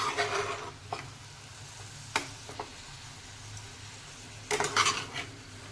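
Cabbage sabzi cooked with oil, mustard seeds, asafoetida and chili is stirred in a pan, giving bursts of scraping and clinking against a soft low sizzle, with quiet gaps between strokes.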